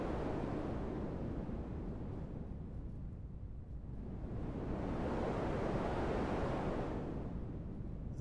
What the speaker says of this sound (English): make a really simple ocean maker that does something like this. So you should hear the ocean.